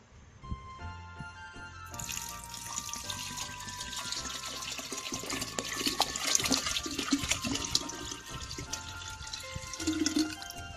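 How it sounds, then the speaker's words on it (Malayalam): A litre of boiled and cooled water pours steadily into a homemade grape wine mixture with yeast, a continuous close splashing and trickling stream that grows slightly louder over several seconds, with no talking. "ഇതിലേക്ക് ഇപ്പോൾ ഞാൻ തിളപ്പിച്ചാറിയ 1 ലിറ്റർ വെള്ളം ചേർത്തിട്ടുണ്ട്"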